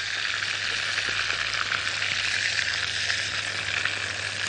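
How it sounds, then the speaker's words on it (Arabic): Chicken pieces frying in a pan, a steady, dense hiss of sizzling oil close up that holds evenly throughout without pause or speech. "الفراخ قاعده تتشوح اهي"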